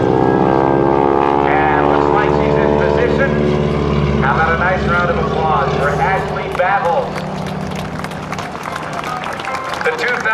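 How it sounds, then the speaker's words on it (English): A propeller airplane droning past at the 2006 NAS Oceana airshow while a wing walker stands on the top wing, engine pitch sliding down as it passes, with an announcer talking over it and crowd noise. "slowed the aircraft down to about 75 miles an hour"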